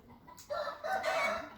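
A rooster crows once on a farm, a loud drawn-out call close to the listener, with a brief rise and a long sustained cry.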